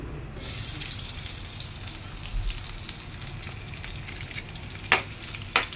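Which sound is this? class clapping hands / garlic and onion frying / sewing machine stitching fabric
garlic and onion frying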